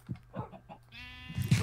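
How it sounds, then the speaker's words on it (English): A sheep bleats in the video game Minecraft, a few short soft calls followed by a longer wavering bleat, faint and alone. "Pink sheep. Blue sheep. Any sheep in here?"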